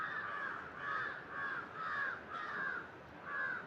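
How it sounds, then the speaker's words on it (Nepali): A crow caws repeatedly in a steady rhythm, about six harsh calls evenly spaced, fairly close and clear with no other sounds. "कागहरू कराउँदो रहेछ, क्वाक गर्दो रहेछ"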